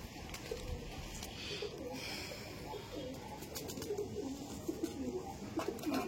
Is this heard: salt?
no